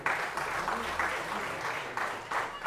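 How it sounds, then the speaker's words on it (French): An audience applauds at a ceremony where a national order medal is awarded, the clapping steady and moderately loud with slight surges, with no voice over it. "Merci de l'applaudir."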